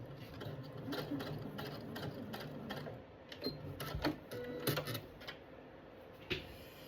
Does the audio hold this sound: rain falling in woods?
no